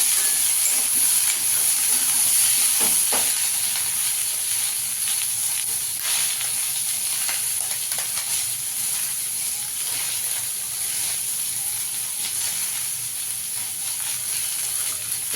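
Green chillies frying in a pan on a gas stove, a constant close hiss and sizzle with a few brief crackles, no talk over it.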